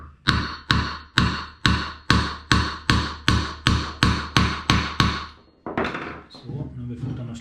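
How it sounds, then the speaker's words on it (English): Steady, loud metallic hammer strikes on a Yamaha Ténéré 700 motorcycle bearing, about a dozen evenly spaced blows ringing close by, followed by a brief scraping clatter at the end. "let's hammer"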